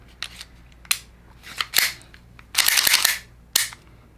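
Parts of a Taran Tactical Alpha airsoft pistol by Jag Precision clicking back together as the slide and slide pin are refitted, with a few sharp separate snaps and a longer scraping rattle, close and clear with no talking.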